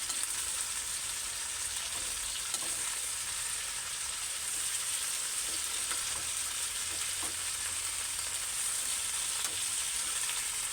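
Banana blossom frying in a pan, a steady hiss of sizzling oil running throughout with faint stirring scrapes, and no talk.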